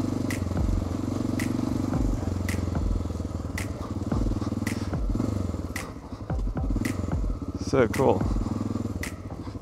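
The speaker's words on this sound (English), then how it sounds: "Man, the Honda does so well off-road." A Honda motorcycle ridden off-road, a steady engine drone with gravel crunch and clatter under wind, and a rider talks briefly over it.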